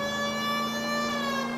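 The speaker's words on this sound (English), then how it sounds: "I can do without the siren now because this is dumb loud." A loud, steady electronic police siren from L.A. Noire rings continuously, rich in harmonics, with no other sounds.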